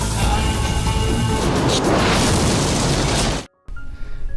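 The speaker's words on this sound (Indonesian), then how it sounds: "Dan boom, kereta itu pun meledak." A carriage explodes on a road in a period drama, a loud sustained roaring blast that fills the scene and then cuts abruptly to near silence, followed by a quieter lingering rumble.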